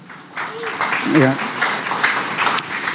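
Audience applause at a motivational success talk, honoring the owner of a garment-making business. A short word is spoken first, then a broad, steady clapping crowd swells and continues throughout with a voice over it.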